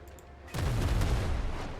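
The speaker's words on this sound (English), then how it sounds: "See if I can get him with the port. The port guns." A ship's port-side cannons boom in the sailing video game Windrose, a sudden heavy blast that rolls into a dense, rumbling volley of overlapping shots lasting over a second.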